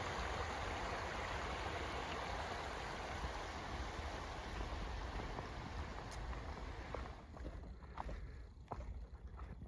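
A stream runs right beside the Appalachian Trail near Neels Gap, giving a steady, full rush of flowing water that thins slightly toward the end, with a few faint clicks over it.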